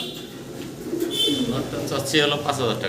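Blue bar fancy pigeons coo softly in the background at a pigeon farm while someone talks over them, the low throaty calls repeating a few times.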